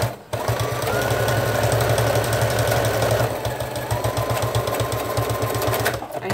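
A sewing machine strains while stitching cloth wipes, hammering in a rapid, steady mechanical chatter with a harsh droning whine, close and loud, briefly pausing near the start and end.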